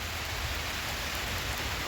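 Rain falls outdoors in the Netherlands during summer, a faint, steady hiss of drops spread evenly across the whole moment with no voices over it.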